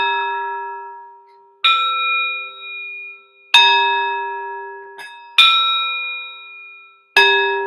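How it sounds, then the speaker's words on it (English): A singing bowl is struck four times at spaced intervals, each strike leaving a clear metallic ring that slowly fades and overlaps the next, close and resonant in a quiet room. "I recommend you guys getting sound bowls."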